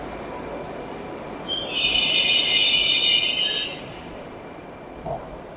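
A Moscow Metro train rumbles along with a loud high-pitched wheel squeal swelling in the middle and fading back into the steady rail noise.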